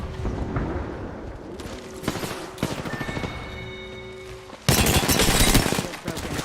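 Video game gunfire rattles in bursts of rapid shots, at moderate level at first and then loud and dense near the end, with tonal game effects and beeps between volleys.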